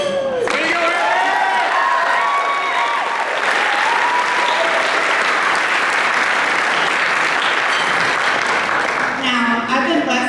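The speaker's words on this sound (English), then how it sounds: "I think she deserves a round of applause." Wedding reception guests break into loud, sustained applause with some cheering during a toast, a full crowd clapping close and steady while voices call out over it.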